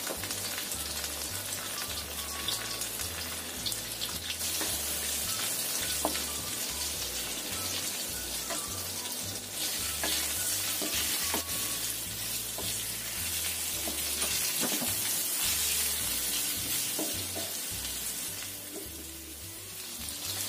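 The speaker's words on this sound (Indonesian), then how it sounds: "kita goreng ayam yang sudah kita potong-potong dan dikasih tepung tadi" Flour-coated chicken pieces frying in oil over a low flame give off a steady, dense sizzle and crackle, joined by faint clinks from the kitchen and a low repeating hum underneath, with no talking.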